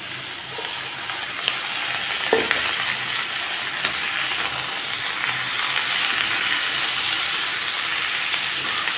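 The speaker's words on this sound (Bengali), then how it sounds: "আমি পেঁয়াজটাকে একটু লালচে করে ভেজে নিয়ে এখন দিয়ে দিচ্ছি বেগুন আর আলু।" Eggplant and potato are frying in a pan with browned onion and slit green chilli, giving a steady, close sizzle and hiss with faint stirring scrapes throughout.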